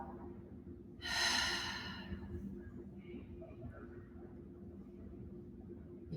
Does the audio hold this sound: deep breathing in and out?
yes